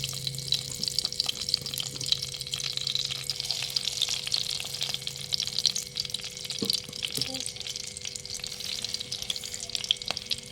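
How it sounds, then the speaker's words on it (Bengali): Hilsa fish pieces sizzle in hot oil in a pan, a quiet, steady crackling fry with occasional small pops and faint kitchen clatter. "তেল গরম হয়ে গেছে, এবার একটা একটা করে মাছ ছেড়ে দিচ্ছি"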